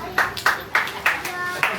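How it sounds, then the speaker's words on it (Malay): Several loud hand claps come in a loose, steady rhythm during a lively family gift-exchange game at home, with voices and background chatter underneath. "Tepuk tangan."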